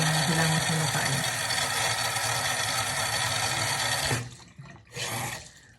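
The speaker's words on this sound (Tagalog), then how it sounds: "yung gagawin natin pang hilamos sa tubig" Lukewarm water running and splashing steadily as a face is washed, a continuous close wash of water noise that suddenly stops, followed by a brief second splash and trailing drips.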